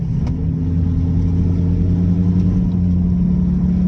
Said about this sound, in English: Still idles aggressive, but all in all, the car's happy